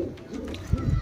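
A slender, red-eyed golden high flyer pigeon gives a brief, soft, low coo near the end, close by, with no talk over it.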